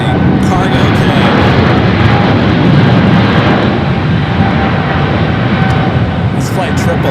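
An airliner bound for Shanghai takes off on runway 25 right at Los Angeles airport, a loud, dense engine roar holding steady throughout as a voice talks over it.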